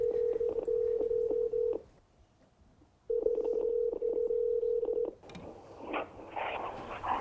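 Telephone line tones while a call to a boat is connected, a steady buzzing pulsed tone in two bursts with a short silent gap, then a hissy, crackling connection noise.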